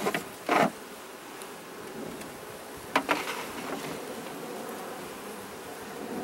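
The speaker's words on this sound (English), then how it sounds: "Now these bees are incredibly calm." Honeybees buzz softly in a calm, open hive, a faint steady drone with a few brief louder passes of single bees near the listener.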